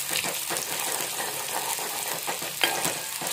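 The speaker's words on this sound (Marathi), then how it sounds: "कांदा परतून घेऊया, कांदा व्यवस्थित परतवून घेऊया." Onion sautés in oil in a small kadhai, giving a continuous close sizzle with soft stirring scrapes and a brief clink near the end.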